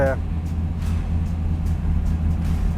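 A 1969 Camaro Z/28 in Hugger Orange with a 6,000 RPM redline idles and revs steadily with a deep, close engine rumble, while a voice talks briefly at the start.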